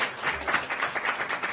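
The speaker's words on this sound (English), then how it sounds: "I think we should applaud." A press briefing audience breaks into a brief burst of applause, many hands clapping in a quick, uneven patter at moderate distance.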